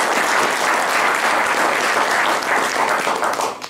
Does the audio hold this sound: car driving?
no